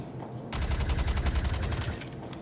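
Rapid automatic gunfire in the space game Star Citizen, a loud, sustained burst of close shots that starts abruptly and runs for about a second and a half before cutting off.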